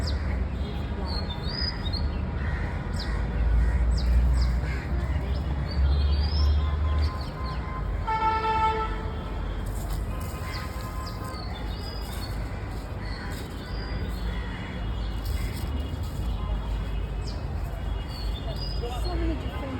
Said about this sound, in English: Oh, I can hear some birds.